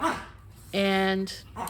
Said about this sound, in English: That's my dog behind me.